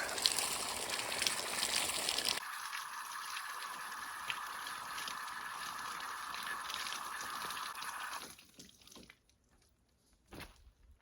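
A water hose rinses a greywater filter from the back side, a steady hissing gush that changes tone partway through, runs several seconds and then cuts off, leaving near silence and a brief splash.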